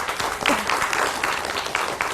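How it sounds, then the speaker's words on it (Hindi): Applause from a TV studio audience welcoming a caller on a Hindi morning show, a steady patter of clapping over about two seconds at moderate level with no talk. "तालियां हो जाए इनकी कॉल की"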